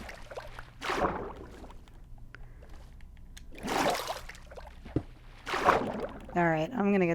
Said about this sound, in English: Oh, there's water noises.